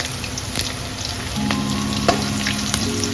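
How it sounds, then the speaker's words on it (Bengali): Fish roe fritters fry in hot oil with a loud, continuous crackling sizzle, and a few sharp pops as they are turned over. "এবার মাছের বড়াগুলোকে উল্টিয়ে দিলাম, মানে মাছের ডিমের বড়া এক সাইড ভাজা হয়ে গেছে"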